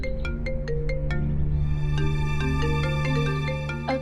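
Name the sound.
mobile phone ringtone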